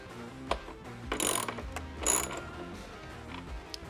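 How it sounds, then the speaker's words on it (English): A ratchet tightening 11mm screws on fairing mounting brackets of a Harley-Davidson Road Glide, clicking steadily in quick pawl ticks close by, with a couple of louder metallic bursts and no talking. "the screws on the sides, we can go ahead and tighten those, the 11mm"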